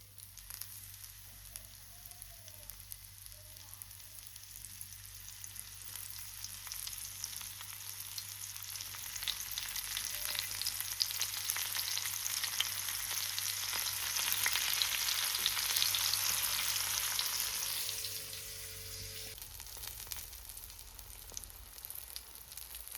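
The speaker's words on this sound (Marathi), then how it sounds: "आता मी सेम तशीच मांदेली पण फ्राय करून घेते." Mandeli fish frying in a pan, a soft steady sizzle and crackle that swells in the middle and eases toward the end, close by with no talking.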